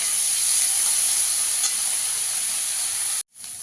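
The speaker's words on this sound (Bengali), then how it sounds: "আমার চিংড়ি মাছটা পেঁয়াজটাও ভাজা হয়ে গেছে" Prawns and onion sizzle steadily in a hot pan, a continuous loud hiss of frying that cuts off abruptly near the end and then resumes more faintly.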